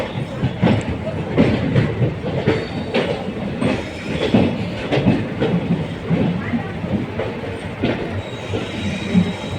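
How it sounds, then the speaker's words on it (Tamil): A passenger train pulls into platform one at Thiruvananthapuram Central junction, its steady rumble and rhythmic wheel clatter close and continuous, with faint squeals and background voices. "பிளாட்பார் ஒன்றில் வருதுங்க வண்டி"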